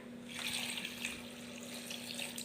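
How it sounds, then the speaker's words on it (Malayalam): Water pours steadily into a blender jar holding grapes in a home kitchen, a close, continuous trickling stream with no talking. "നമുക്ക് ഇനി ഇത്തിരി വെള്ളം ഒഴിക്കണം"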